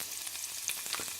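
Food frying in a skillet on morning woodstove coals, a soft close sizzle with faint crackles and scraping, steady and brief with no talking.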